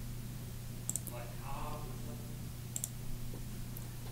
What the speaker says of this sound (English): Next, click the Export button.